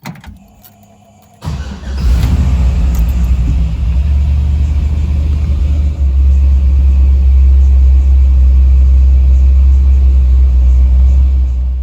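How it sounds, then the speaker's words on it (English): An old car fitted with an LS swap engine cranks briefly and catches, then settles into a loud, steady, deep idle rumble that runs on alone. "Now I'm gonna start up the car, and we're gonna see if the gen light turns on."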